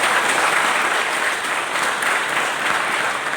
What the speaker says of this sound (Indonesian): Ya tepuk tangan dulu lah.